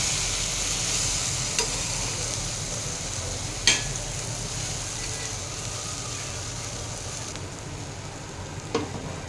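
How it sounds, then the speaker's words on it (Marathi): Colocasia leaf rolls (alu vadi) fry in oil in a covered pan, giving a steady, moderate sizzle throughout, broken by a few sharp clinks and scrapes from the lid or a utensil. "चला तर आपल्याला पानं पलटून घ्यायचं. तर बघू शकता मी झाकण ठेवले."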